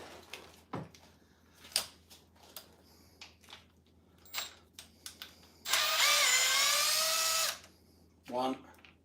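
A power drill spins out bolts in a workshop with a long, loud whirring run of about two seconds, preceded by scattered clicks, knocks and tool handling and followed by a short second burst.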